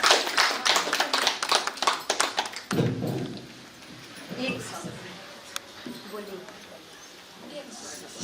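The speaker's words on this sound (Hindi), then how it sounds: "ताली बजाएं" A full group at a Shivshakti spiritual program in Biratnagar, Nepal, claps hands in a burst of several seconds of dense, loud claps, then the sound drops to faint scattered taps and murmurs.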